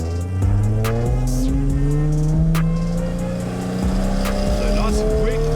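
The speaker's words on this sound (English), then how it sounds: "Handbrake up, clutch out, apply throttle." A drift car's handbrake corner entry: a loud engine revs hard and climbs in pitch as throttle comes back on, with tire squeal and brief scrubbing bursts layered over the steady roar throughout.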